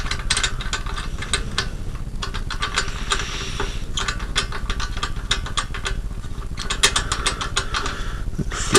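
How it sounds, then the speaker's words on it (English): A knob being unscrewed on a 1972 Repedo folding bicycle from Czechoslovakia, heard as a dense run of close, rapid ratcheting clicks with a continuous mechanical rattle underneath. "You just unscrew this knob."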